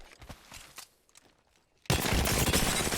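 Automatic weapon fire in Apex Legends: a few faint shots at first, then a sudden loud, sustained burst of rapid gunfire that continues to the end.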